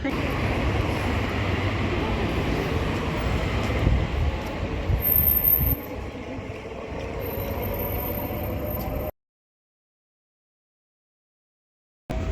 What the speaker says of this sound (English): My train is here